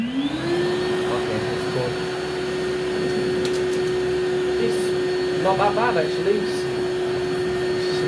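A Karcher WD1 cordless vacuum running its blower function, giving a loud steady whirring motor whine close by that rises in pitch as it spins up, while a person talks briefly over it.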